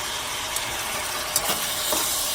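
Scallop and tilapia sauce sizzling in a pan as it cooks down, a steady faint hiss and crackle with a few soft stirring clinks, no talking.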